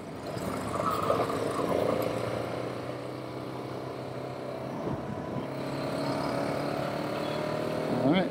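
A 2018 KTM 690 Enduro R single-cylinder motorcycle ridden in first gear, its engine droning steadily close up with wind rush, pitch climbing slightly near the end.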